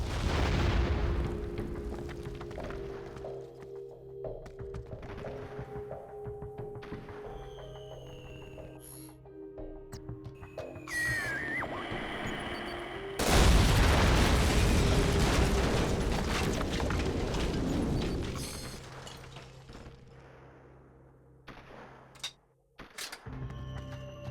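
Heavy bombing explosions boom and rumble in the Syphon Filter Dark Mirror video game, with one big blast swelling midway, layered over mechanical game noises and occasional sharp bangs, loud and sustained.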